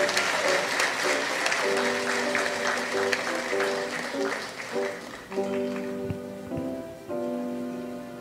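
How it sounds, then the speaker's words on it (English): A church congregation applauds honorees at a Sunday worship service, steady clapping under sustained music tones that swell and shift throughout. "Let us offer a round of applause to all of our honorees."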